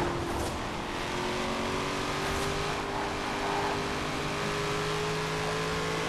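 A Chevrolet Corvette engine in the Forza Horizon 4 racing game holds a steady, sustained drone at moderate loudness, with a faint whine over broad road-like noise and no talking.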